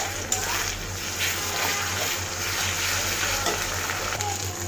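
Ginger, garlic and coriander paste with chopped onion sizzles in oil left over from frying fish, a steady close crackling hiss with stirring scrapes and a low hum underneath, no talking.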